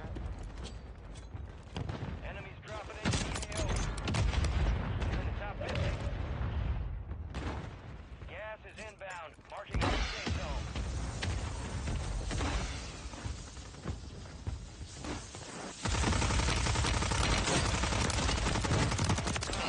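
Gunfire in Warzone, dense bursts of rapid shots and booming blasts overlapping in chaotic waves, loud and close, with brief lulls before a heavy sustained barrage at the end.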